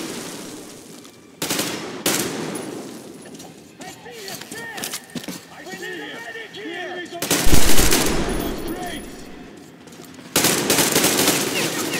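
Gunfire in the shooter game Metro Exodus, sustained automatic bursts and single shots in several loud clusters over a tense stretch, with someone talking excitedly between and over the shooting.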